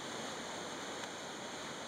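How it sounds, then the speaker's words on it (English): A waterfall on the Skeena River that pink salmon try to leap, heard as a steady, dense broadband rush of falling water, even and unbroken throughout with no voices. "you see pink salmon that are attempting to leap up a waterfall"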